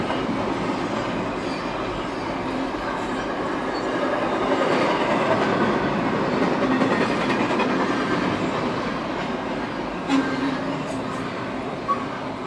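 A CSX freight train, I008, rolls past as a steady, loud wash of wheel and rail noise with faint clicking, filling the whole stretch without pause.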